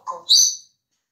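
A pet parrot gives a short chirp followed by a brighter, louder whistled call, close by, then falls silent.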